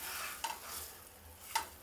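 Surmai fish fries on a hot tawa with a soft, steady sizzle, and two faint clinks of a utensil cut through it.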